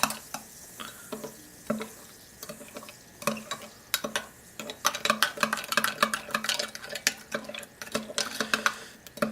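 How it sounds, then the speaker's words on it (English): A spoon stirring sugar into liquid while making homemade soda, scraping and clinking steadily against the container in quick repeated strokes, close up and fairly loud with no talking. "we got to get the sugar nice and dissolved like that"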